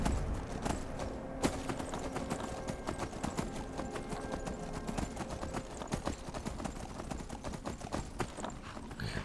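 Horse hooves clip-clop steadily in Skyrim, a close, continuous run of rapid hoofbeats over game background sound with one louder knock early on.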